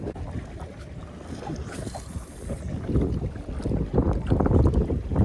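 Carolina Skiff J14 outboard motor running under throttle offshore, a steady low engine drone with wind buffeting and water rush that swells louder toward the end.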